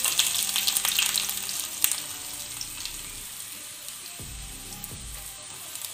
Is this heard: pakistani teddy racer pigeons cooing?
no